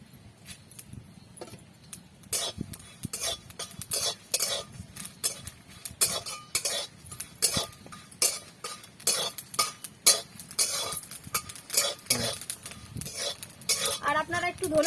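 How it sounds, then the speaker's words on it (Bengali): Chillies, small cardamom pods and fennel seeds dry-roasting in a pan for chalta pickle, with steady scraping and clinking of a spoon against the metal and brief rattles of spices, close and moderately loud throughout. "এই যে মৌরি দিয়ে ভেজে নেবো ভালো করে"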